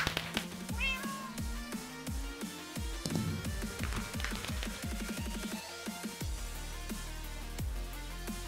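Cat meowing in the video game Minecraft, a few short meows standing out over busy game music and effects, fairly loud and close.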